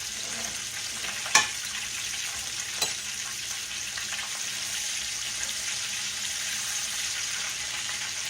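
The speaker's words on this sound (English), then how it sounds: "It's frying up really, really good." Catfish and hush puppies fry in hot oil, a dense, steady sizzle and crackle at moderate volume, broken by a couple of sharp clinks or pops, with no voices.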